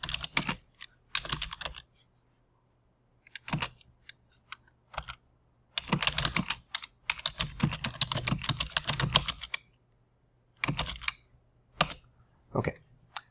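Typing on a computer keyboard while working on text, in bursts of quick clicking keystrokes separated by short pauses, fairly close and moderately loud with no talk.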